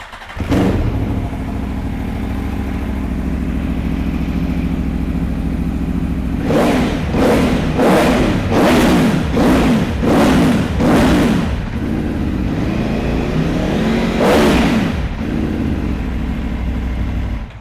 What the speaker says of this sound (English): Let's fire this one up and have a listen.